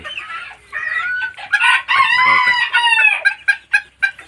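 Young white black-tailed chickens, about two to two and a half months old, cluck and attempt squeaky crowing calls in a repeated, close, loud burst of overlapping calls.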